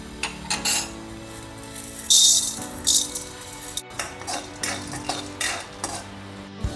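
Chana dal dry roasting in a hot pan, stirred with a utensil: irregular scraping and clinking strikes with rattling grains, a few sharper metallic clanks standing out, close by and without talk.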